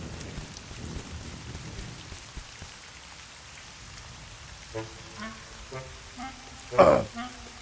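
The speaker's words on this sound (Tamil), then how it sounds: "மழை வர போதுடா தம்பி." Steady rain patters down in an animated cartoon, a constant hiss of drops with a few louder splashes and a sharp burst near the end, no voices over it.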